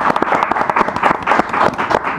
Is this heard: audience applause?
yes